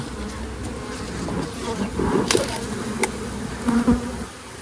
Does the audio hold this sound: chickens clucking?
no